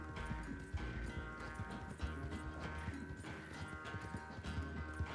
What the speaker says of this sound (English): But who cares if I lose in a little horse race